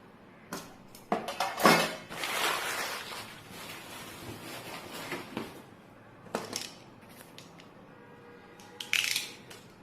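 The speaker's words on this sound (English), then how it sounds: "This is a plate." A home decor plate is handled up close, with scattered clinks and knocks of hard ceramic or glass against surfaces, several sharp hits early and near the end amid quieter shuffling.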